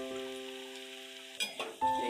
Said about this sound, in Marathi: दुसरी साईडनी करूया। स्लो गॅसवरतीच फ्राय करायचे आपल्याला।